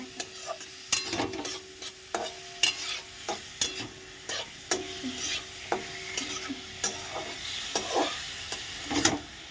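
Soya chicken frying in a little oil in a home kitchen, stirred with a spatula: steady sizzle under repeated scraping strokes against the pan, close and fairly loud, no talking.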